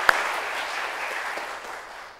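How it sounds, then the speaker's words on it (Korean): A church congregation at a Sunday worship service gives a round of applause, a dense wash of clapping that starts full and slowly fades over about two seconds. "하나님께 영광 박수 돌립니다."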